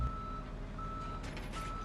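A tow truck in the video game Police Simulator: Patrol Officers sounds a steady series of reversing beeps, a sharp tone repeating at even intervals over constant engine and road noise.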